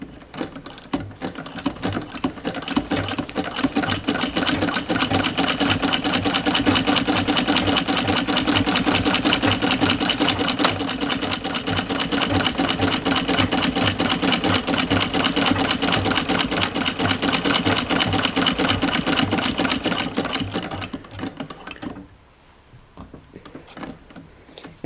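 A 1901 White Family Rotary sewing machine stitches steadily for about twenty seconds, a loud, fast, even mechanical whir and tick that then stops, leaving quiet room noise.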